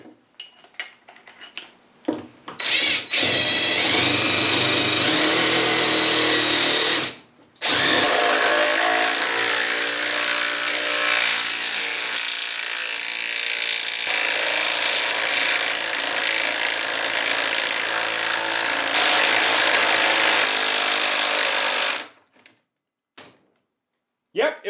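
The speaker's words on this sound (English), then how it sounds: "Let's see if it'll drive this into the post." A RIDGID Gen5X impact driver with a half-inch adapter and impact socket hammering a 5/8-inch lag bolt into a wooden post, a loud, continuous rattling whine lasting close to twenty seconds with a brief pause early on.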